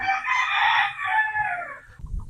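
A White Kelso gamefowl rooster crows once, close and loud, a long drawn-out call fading near the end, followed by a short low thump.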